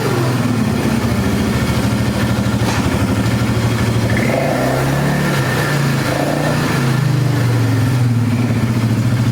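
A revived, previously trashed Polaris 325 Magnum ATV with a carburetor still needing tuning runs on its first ride, its engine droning close and loud with rising and falling revs and no talk.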